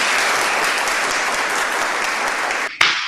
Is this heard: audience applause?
yes